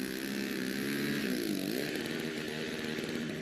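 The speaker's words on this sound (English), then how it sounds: "Look at that amazing snowblower." A snowblower running through heavy snow during a blizzard in Washington State, a steady droning motor whine with a shifting pitch, continuous but fairly faint.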